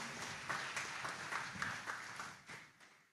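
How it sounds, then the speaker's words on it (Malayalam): An audience at a feast-day Mass in St Mary's Church, Vennoor, applauds a priest, with a quiet, fairly distant patter of many hands clapping for about three seconds before tapering off. "ഞങ്ങളൊന്ന് കൈയടിച്ച് അച്ഛനെ രേഖപ്പെടുത്തിക്കോട്ടെ"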